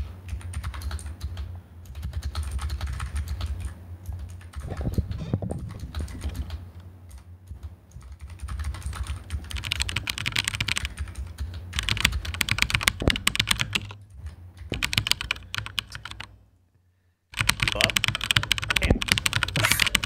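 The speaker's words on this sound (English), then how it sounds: "It's because Chris was typing on it." Rapid clattering keystrokes on a computer keyboard during a Warzone game stream, heard in dense bursts close to the mic, mixed with game sounds and talking, with a brief drop to near silence before the tapping resumes.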